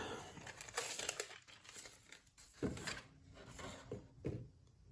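Plastic model kit packaging crinkles and rustles in faint, irregular bursts close by, on a 26-year-old slot car model kit.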